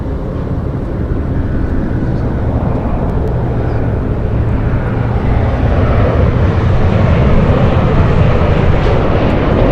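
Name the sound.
airliner at Los Angeles International Airport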